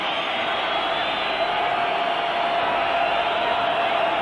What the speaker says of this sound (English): They're still whistling anxiously in the crowd, the Liverpool supporters.